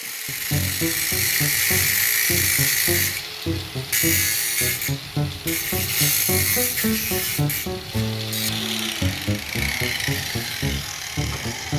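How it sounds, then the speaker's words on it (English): Angle grinder cutting an overflow hole into a bathroom basin, a loud, steady grinding whine lasting several seconds with slight shifts in pitch as the disc bites, no voices. "get my angle grinder and cut the overflow hole inside of this"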